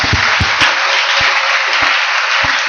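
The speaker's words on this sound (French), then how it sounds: "Applaudissons fort le Seigneur." A church congregation applauds loudly and continuously, with dense clapping nearby and a few sharp thumps or beats punctuating it, and no talk.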